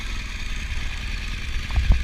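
BMW R1200GS Adventure motorcycle engine running steadily in deep sand, a low rumbling idle with faint clatter and a few louder thumps near the end, close by.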